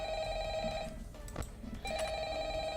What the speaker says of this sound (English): I keep forgetting to listen to that phone call